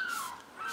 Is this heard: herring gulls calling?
yes